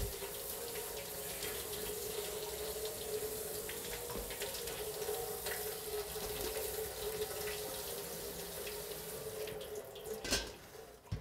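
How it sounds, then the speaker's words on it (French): Sliced potatoes being rinsed in water to wash off vinegar during chip making, with steady running tap water splashing continuously into a sink, fairly close and alone, a brief louder splash near the end. "nous pourrons rincer pour enlever tout le vinaigre qui est dans"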